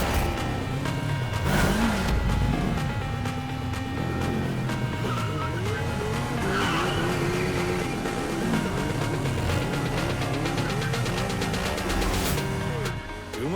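Motorbikes performing stunts in a Malayalam movie action scene. Engines roar and rev loudly and continuously, with passing whooshes and a busy, dense soundtrack throughout.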